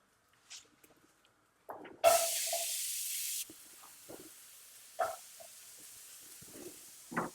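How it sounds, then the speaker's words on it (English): Onions hit a hot pan still greasy from bacon and burst into a loud hiss and sizzle that settles into a softer steady frying, with faint clatter and a few later flare-ups. "these are going to cook for about the same length of time, 20-25 minutes at least, till they start to caramelise"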